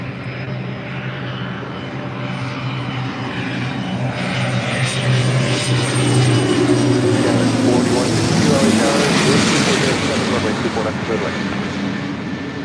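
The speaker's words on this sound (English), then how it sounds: "This Cessna Citation CJ3 coming in from Montrose." A Cessna Citation CJ3 business jet landing at LAX, its engine roar building from a distant rumble to a loud, broad whoosh as it passes overhead, with a steady outdoor background.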